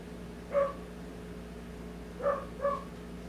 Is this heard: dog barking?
yes